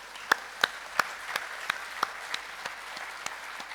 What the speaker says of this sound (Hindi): एक बार उस माँ बाप को जोरदार तालियां।